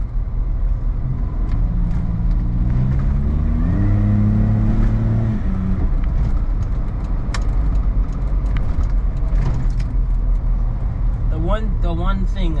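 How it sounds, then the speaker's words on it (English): Suzuki Jimny with an automatic gearbox driving along, its engine rising in pitch as the turbo spools, steady and close throughout; a person speaks over the engine noise. "It's automatic, but it's still peppy. Like, you can hear the turbo spool."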